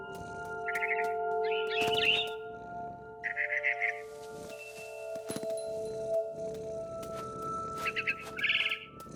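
Birds chirp in short bright bursts inside the video game What Remains of Edith Finch, set against a steady tonal ambient hum with occasional croaking and rustling sounds between the calls.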